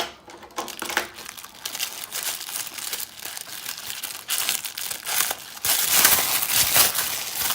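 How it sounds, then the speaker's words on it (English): Recycled tissue paper is unwrapped and crinkled by hand, giving irregular rustling and crackling that grows louder and busier toward the end, close up with no voices. "I'm going to get my recycled tissue paper. Let's undo it."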